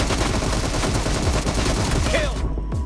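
Rapid automatic gunfire from a team deathmatch in the mobile game PUBG Mobile. Dense, loud bursts of shots fill nearly the whole stretch and end abruptly near the close.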